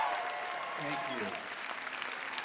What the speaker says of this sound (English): I know you're not clapping for me.